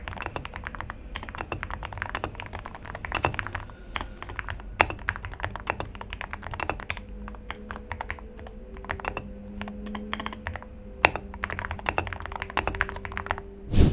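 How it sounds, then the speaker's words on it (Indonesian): Continuous typing on an AKKO MOD007B mechanical keyboard with Kailh Sakura Pink switches, rapid close-up keystroke clicks and thocks in an even stream, with no talking. "jadi buat kalian yang pengen dengar suara typing testnya, kalian bisa dengar suaranya sebagai berikut"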